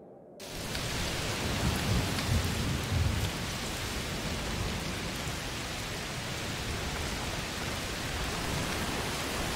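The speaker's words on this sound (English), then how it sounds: "It's raining a right lot." Heavy rain pours steadily in a thunderstorm in the video game A Plague Tale: Requiem, a dense, loud, continuous roar with low thunder rumbling early on, no voices.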